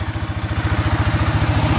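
A 2008 Arctic Cat 650 H1 4x4 ATV engine running at a steady idle, close and loud, with an even rapid pulsing thump and mechanical clatter, no talk.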